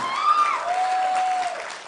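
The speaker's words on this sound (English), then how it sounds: "A round of applause, ladies and gentlemen" A crowd applauding steadily throughout at a moot court competition final, with a sustained whistling tone ringing over the clapping.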